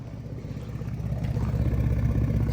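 A Ford F150 V8 with newly installed catalytic converters runs steadily nearby, a low, even engine rumble that grows slightly louder and fuller toward the end, with no talking.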